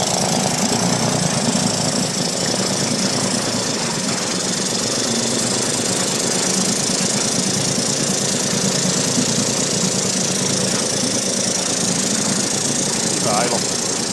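A small outboard motor idles steadily, a continuous rough knocking drone close by with no pauses, after a repair with no air baffle fitted.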